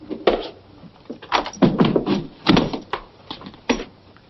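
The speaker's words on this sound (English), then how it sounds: "Shut the door, Rocco." A door is shut in a 1943 film scene: a few dull wooden thumps and knocks with scraping movement in between, on a muffled, band-limited old recording.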